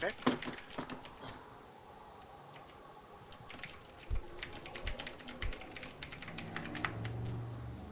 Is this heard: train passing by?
no